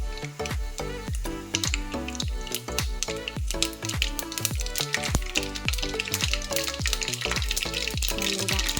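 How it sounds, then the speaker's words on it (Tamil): Mustard seeds splutter and pop in hot oil in a pan, a rapid, dense crackle of sharp close bursts over a frying sizzle, continuing without talk. "கடுகு நல்லா பொரிஞ்சிட்ருக்கு."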